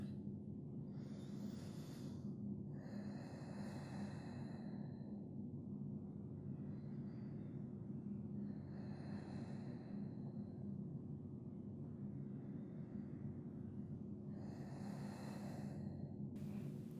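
Slow, deep breaths in a yoga child's pose, five or six long airy inhales and exhales spaced a few seconds apart, close and soft over a low steady background hum.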